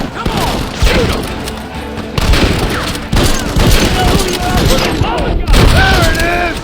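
A Red Dead Redemption shootout erupts in rapid, overlapping gunshots and bursts of fire, loud and close, with shouting voices between the volleys.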